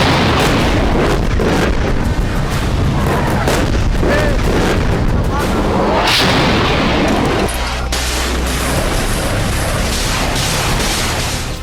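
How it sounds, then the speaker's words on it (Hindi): Artillery fire and explosions in the Armenia-Azerbaijan war, a loud, dense barrage of booms and blasts pounding almost without pause, with a voice speaking over the roar. "ऐसे धमाके हो रहे हैं जो कल्पनाओं में भी कंपाने वाले हैं"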